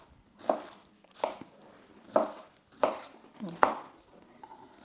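A knife cuts through a fresh pineapple in five separate, evenly spaced strokes. Each is a short, crisp crunch against a quiet background, and no one speaks.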